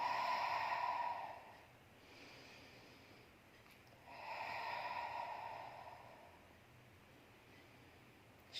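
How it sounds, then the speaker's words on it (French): Loud deliberate breaths during a Pilates exercise: a strong, breathy exhale, a quieter pause, then a second long forceful exhale, close to the microphone with no speech. "Je fais exprès de respirer fort pour que vous entendiez bien ma respiration."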